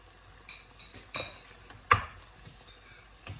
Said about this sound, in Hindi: तो अब इसको मिक्स करेंगे।